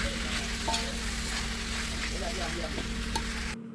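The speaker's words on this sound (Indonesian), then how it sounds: "Langsung saja kita masukkan teri tadi ya. Nih kita aduk-aduk terus, aduk-aduk sampai rata." Anchovies and oyster mushrooms in red chili sambal are stirred in a hot pan, with a steady loud sizzle and occasional scraping of the utensil throughout.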